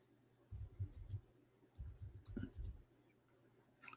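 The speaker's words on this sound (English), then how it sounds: "type it in English now" Light keyboard taps entering a name on a computer, a few brief clicks in two short bursts over a low rumbling background, quiet and close, with one more click near the end.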